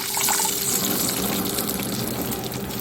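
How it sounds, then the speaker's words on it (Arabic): Water pours steadily into a pot of Egyptian rice being cooked, a continuous even splashing gush with no pauses. "تمام، هنزل بالميه."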